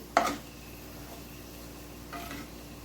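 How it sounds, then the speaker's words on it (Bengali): Sliced onions fry in a pan for chicken korma, a soft sizzle running underneath, with a sharp utensil scrape at the start and a second, gentler stir about two seconds later. "পেঁয়াজটা আমার হালকা লাল ভাজা হয়েছে, আরও আমি কিছুক্ষণ ভেজে নেব"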